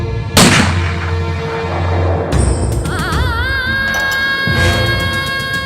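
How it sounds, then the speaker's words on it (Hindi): Firecrackers go off in a loud sharp blast followed by a sustained crackling, whistling barrage with rising and falling shrieks, set in a Hindi film scene. "वो पटाखे तैयार हैं क्या?"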